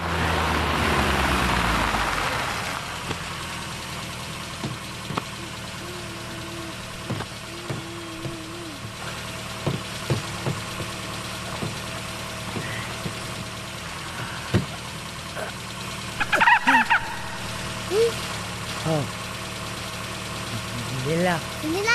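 Car engine idling steadily in a movie scene, a low continuous rumble running throughout, with people talking over it and brief clicks and knocks along the way.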